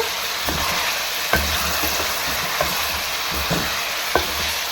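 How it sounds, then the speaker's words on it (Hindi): Chicken sizzles steadily in oil in a karahi for a creamy white chicken karahi, with a dense hiss broken by a few sharp clicks and scrapes from stirring. "अच्छी तरह से भूनेंगे चिकन को, अच्छी तरह से भून लेंगे इसे।"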